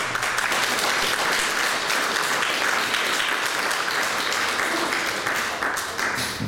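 Audience applause fills a panel discussion at an art exhibition opening, steady dense clapping continuing throughout without a break.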